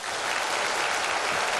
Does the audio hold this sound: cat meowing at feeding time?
no